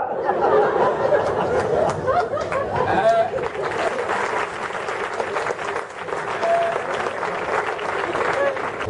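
Audience applause fills a comedy stand-up show, steady dense clapping mixed with crowd chatter and some laughter throughout.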